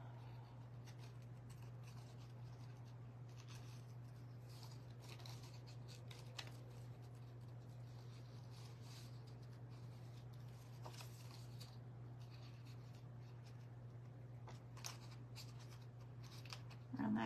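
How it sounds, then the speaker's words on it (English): Small scissors fussy-cutting paper for a junk journal: quiet, steady snipping and rustling close by over a constant low hum, with occasional light taps. "these like little bitty ones are better for cutting these little fussy cuts"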